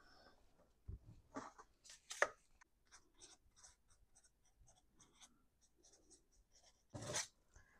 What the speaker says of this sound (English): All right, I'll write new tags.